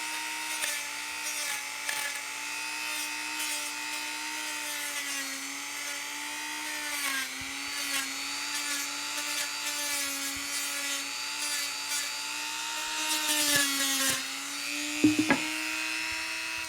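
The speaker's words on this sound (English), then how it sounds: "you're going to run your rotary tool about half speed approximately" A small rotary tool fitted with a mini sanding mop whines at a steady pitch at about half speed, with rubbing and sanding scratches against a wooden CNC profile and a few clicks near the end.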